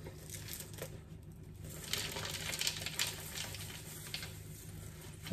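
Potting soil is poured into a pot while an orchid is repotted into universal soil, giving a continuous soft rustling, crumbling patter at close range with a slight swell midway, and no talk.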